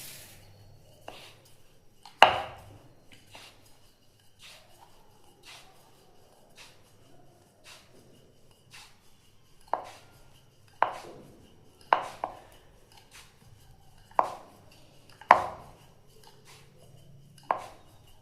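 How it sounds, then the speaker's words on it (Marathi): A rolling pin works paratha dough on a floured board, giving sharp, irregular wooden knocks and clicks over soft rubbing and scraping, close by, with no one talking. "आता आपल्याला खाली सुकं पीठ टाकून लाटून घ्यायचं आहे"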